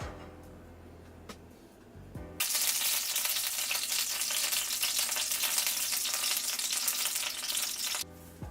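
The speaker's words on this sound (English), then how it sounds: "we start to brown our chicken wings" Loud, steady sizzling of chicken wings browning in hot canola oil in a pan, starting abruptly after a quieter moment and continuing until it drops off near the end.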